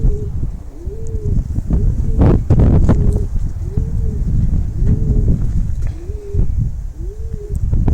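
Basra pigeons coo in a steady repeating rhythm, about one call a second, close by while gusty wind roars across the microphone throughout.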